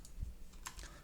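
A few quick keystrokes on a computer keyboard, close and fairly quiet, as separate clicks over about a second, with no talking.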